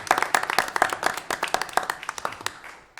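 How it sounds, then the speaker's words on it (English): A small group at a county commission meeting claps in a brisk, uneven patter, loud and close at first, then thinning and fading out after a few seconds. "we just wanted to give you a round of applause"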